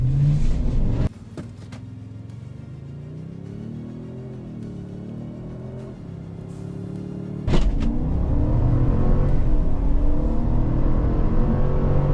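Large SUVs, a 2024 Toyota Sequoia, Land Rover Defender 130 and GMC Yukon, accelerating hard in a drag race: a steady engine drone rises in pitch, then a louder surge of revving takes over partway through.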